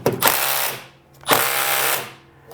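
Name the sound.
impact wrench trying to loosen a tight bolt on a Briggs & Stratton snowblower engine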